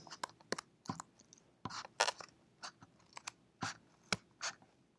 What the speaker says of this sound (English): Go through with your scissors.